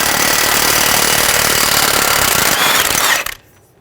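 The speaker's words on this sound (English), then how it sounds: "Using a 36mm socket, remove the axle nut." A 36mm socket on an impact gun drives off the front axle nut of a 2003-2008 Honda Pilot, a loud continuous hammering rattle lasting about three seconds before cutting off abruptly.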